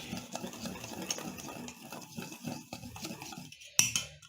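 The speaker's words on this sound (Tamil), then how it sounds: "அதில் தேவையான அளவு உப்பு போட்டுட்டு கொஞ்சம் நல்லா கலக்கிடுங்க" Wheat flour and salt are stirred in a bowl with quick rhythmic scraping and soft tapping strokes, ending in a sharp clink of utensil against the bowl.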